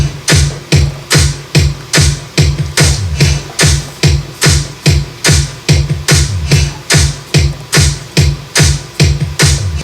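A sampled four-bar drum beat sped up to a song's tempo, with punchy, evenly repeating kicks and bright snare or hat hits looping loud and steady with no talk.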